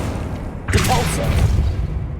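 A Depulso force spell cast in Hogwarts Legacy hits with a sudden burst and thump about two-thirds of a second in, followed by a brief rumbling tail.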